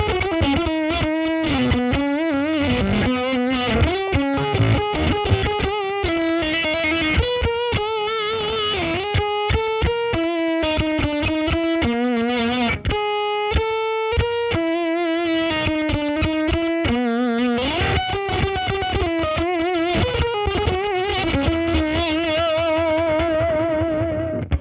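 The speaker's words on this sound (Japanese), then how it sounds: "当然ながらこういうオクターブファズなので和音はなりません。" Electric guitar played through a Shocker-style octave fuzz pedal with an LED-lit logo: a continuous, loud, buzzy single-note riff with a thick, heavily distorted tone and no talking.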